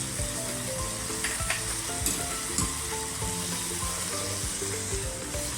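A coarse masala for a dry prawn dish sautés in a pan, a steady soft sizzle with light stirring scrapes throughout, fairly quiet and close.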